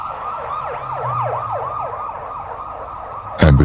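An ambulance siren wails in a steady, rapid rising-and-falling cycle at moderate distance, with a low vehicle rumble beneath, ending in a sudden loud burst of noise.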